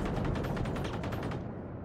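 Rapid automatic gunfire from the video game Generation Zero rattles in a dense, loud burst for under two seconds, then cuts off.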